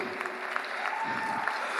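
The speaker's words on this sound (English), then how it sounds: "a big round of applause for the NICU team" A fairly faint wash of applause from an audience at a hospital NICU graduates' day celebration, honouring the neonatal intensive care team, with steady clapping and a brief tonal hum.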